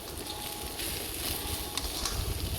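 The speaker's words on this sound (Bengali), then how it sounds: "পুরো কলাটাকে আমি ছোটো ছোটো করে কেটে ভাজতে দিয়েছি।" Small cut pieces of banana frying in a pan, a steady close sizzle with light crackle and occasional stirring scrapes throughout, no voices.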